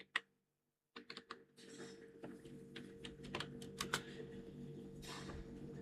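Typing on a computer keyboard: faint, irregular clicking keystrokes in a quiet room, alone with no talk.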